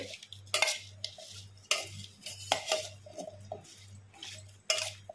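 Jackfruit pieces are mixed with turmeric, black pepper and salt in a bowl, with soft scraping and occasional sharp metallic clinks of a spoon against the bowl, close and fairly quiet, over a low steady hum.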